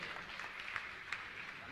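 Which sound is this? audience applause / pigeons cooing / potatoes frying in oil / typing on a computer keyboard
audience applause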